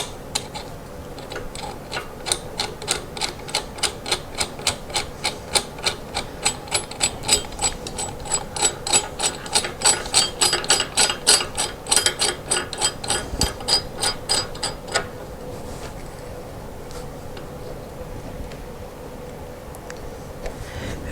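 A nut spun by hand onto the threaded bracket of a vanity sink, giving a long run of rapid, regular metallic clicks and ratchety ticks close up, which stop before a quieter ending.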